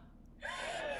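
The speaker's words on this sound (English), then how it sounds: "There was an audible gasp from the crowd." A quick, breathy gasp from a soundboard, a single sharp intake that starts abruptly after a moment of near silence and hangs faintly to the end.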